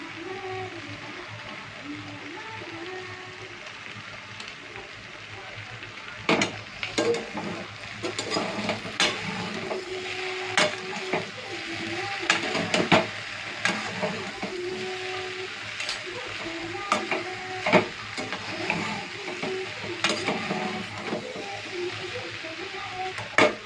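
Schezwan chutney going into a pan of sizzling Manchurian, with a steady fry hiss under frequent sharp scrapes and clinks of a spoon stirring against the pan, close and moderately loud.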